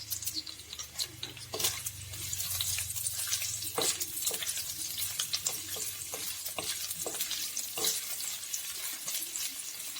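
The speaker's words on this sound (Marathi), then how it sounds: "तेल गरम झाल्याच्या नंतर टाकणार आहे मी थोडासा कांदा, छोटा कापून घेतला होता मी, तो कांदा टाकणार आहे।" Small-chopped onion sizzles in hot oil in a pan, a close, steady crackling fry with frequent pops and stirring clatter throughout.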